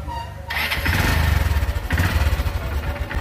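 A carbureted motorcycle engine cranks and fires on the first attempt after a brief quiet moment, then settles into a loud, close, rapid chugging idle with a quick blip of throttle midway.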